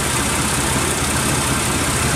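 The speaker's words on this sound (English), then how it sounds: "Rough idle." A Pontiac Montana's GM 3.4 liter engine idles roughly with a broken fuel pressure regulator, giving a loud, close, steady mechanical rumble with uneven pulsing and no talking.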